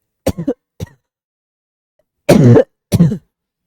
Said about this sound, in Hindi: बड़ा बिजोड़ खांसी हुआ है